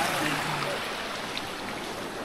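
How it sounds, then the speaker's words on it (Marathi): A cold mountain stream flows steadily on the Naneghat trek, a close, even rush of water with no pause. "मस्त आहे, थंडगार पाणी आहे"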